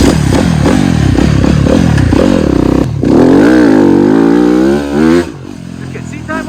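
Motorcycle engine revving in short repeated bursts, then a longer rising rev that drops away, loud and close with some clattering.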